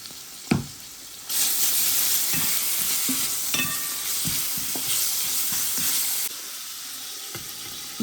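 Onion frying in oil in a pot with garlic paste, salt and fish, with a steady loud sizzle and occasional stirring clinks and scrapes. The sizzle starts after a brief knock and runs steadily, with no talking.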